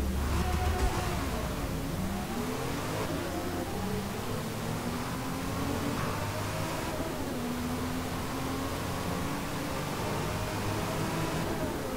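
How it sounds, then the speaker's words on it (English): A racing car's engine in Forza Motorsport revs and drones continuously, the exhaust note rising and falling with gear changes over a steady, noisy hiss, loud and sustained throughout. "Does that sound a bit more racy with that exhaust?"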